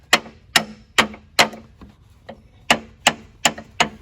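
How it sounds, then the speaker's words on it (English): A mallet taps on a water pump part in the engine bay of a 2009 Dodge Charger, giving about nine sharp, close knocks at a roughly even pace with a short pause midway. "got my mallet, and kind of give it a nice little love tap"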